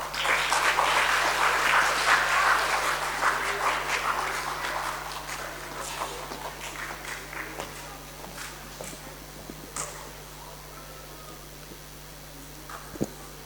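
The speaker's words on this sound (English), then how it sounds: "Please give her a round of applause" An audience at a school event applauds, the clapping loudest at first and thinning gradually into scattered claps, with a steady background hum throughout.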